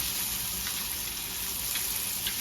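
Garlic and red chilies sautéing in hot oil for a crab curry, giving a steady, loud, continuous sizzle with faint occasional crackles.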